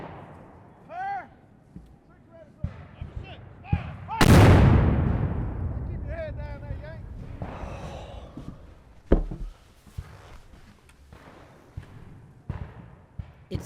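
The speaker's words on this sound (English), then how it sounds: "Too close to the cannons out there." Cannon fire in a Civil War-era battle in Georgia: a single huge nearby blast booms and rolls off slowly, followed by a sharper, lighter report, with voices speaking before and after.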